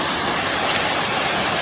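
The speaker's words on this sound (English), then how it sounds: "here we are at the Bekare Waterfall and we are getting ready to head down" Rushing water at the Bekare Waterfall roars in a dense, constant wash of white noise, loud and close, with no talk over it.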